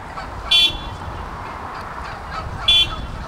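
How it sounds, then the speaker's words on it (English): Wild turkeys in a Staten Island neighborhood call twice, each a brief loud honking burst about two seconds apart over a steady outdoor background hum. "Turkeys, turkeys, turkeys."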